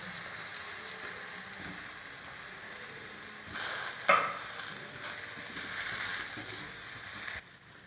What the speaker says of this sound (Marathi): आता आपण ह्या फोडणीत शेंगा टाकून घेऊ।